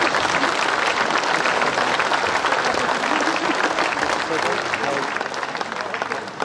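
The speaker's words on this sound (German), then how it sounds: "sollten wir denen auch nochmal einen kräftigen Applaus geben" A crowd standing in an outdoor market square gives loud, sustained applause at a rally, thick continuous clapping mixed with crowd noise that eases slightly toward the end.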